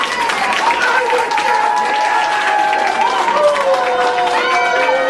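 A pro wrestling arena crowd cheers and applauds in a sustained loud roar, with voices rising and falling throughout.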